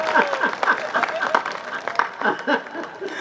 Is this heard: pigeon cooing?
no